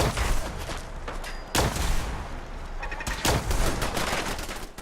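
In Fallout 4, a machine gun fires in dense, loud bursts, with rapid rattling shots and heavy booms that surge, ease, then surge again across a noisy battle.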